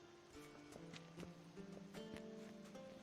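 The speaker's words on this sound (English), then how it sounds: "Horse." Horse hooves clip-clop in an irregular walking rhythm in The Witcher 3 video game, quiet and close, mixed with soft game ambience.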